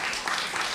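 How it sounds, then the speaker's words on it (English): Audience applause at a women-in-communication panel: a steady, dense wash of clapping from a seated crowd, fairly loud and continuous through the brief moment, with no voices standing out. "Round of applause for that, please."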